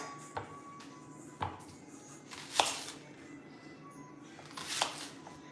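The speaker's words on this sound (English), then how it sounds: "So we're just cutting it really, like just breaking it down." Onion being chopped with a knife on a board, a handful of sharp separate knocks spaced a second or so apart, fairly faint and close, with quiet room background between cuts.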